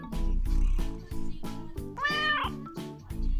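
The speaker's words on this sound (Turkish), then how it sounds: "Sen bu kedicikleri mi izliyorsun?" A kitten meows repeatedly and loudly up close, a series of drawn-out, rhythmic cries with one higher, wavering call in the middle.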